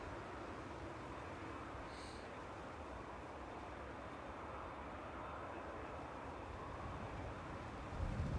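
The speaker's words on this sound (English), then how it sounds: "There's Ryanair from Milan, just landed." A Ryanair airliner from Milan lands at Manchester Airport, a steady, broad distant roar of jet engines holding throughout, swelling slightly at the very end.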